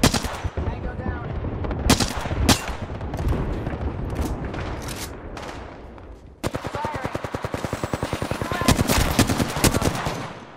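Gunfire in the video game Apex Legends: scattered sharp single shots and bursts early on, then a sustained rapid automatic stream of loud, close shots.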